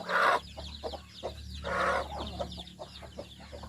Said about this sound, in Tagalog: Dami tayong mga pasisiw ngayon. Puro may 4 na inahin yan.